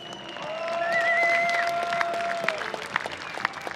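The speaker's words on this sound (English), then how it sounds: "the spectators, give a big cheer to all the top 16 drivers" Spectators at a Drift Masters drifting event in Riga cheer and applaud for the top 16 drivers; a distant, diffuse crowd roar with scattered claps and whistles rises briefly over open-air ambience.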